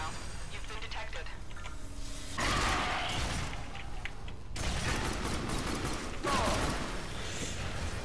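Pistol fire in the video game Warframe comes in several dense bursts of rapid shots, moderately loud, mixed with game sound effects and a voice speaking over them.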